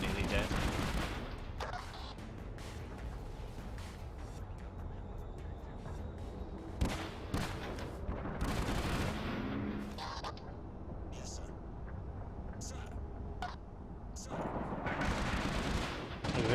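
Video game gunfire rattles in dense sustained volleys with a few sharper bursts, mid-level and continuous, while a player talks over it.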